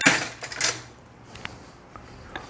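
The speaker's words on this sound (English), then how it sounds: "And then I'm going to get me a spoon." Metal cutlery clinks and clatters as a spoon is taken from a kitchen drawer, with a couple of close, fairly loud rattles at first, then a few faint, sparse taps.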